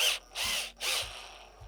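A stainless steel sheet metal screw is driven for a top mount post and aluminum handrail, two short whirring bursts of the driver followed by a quieter tail, close up.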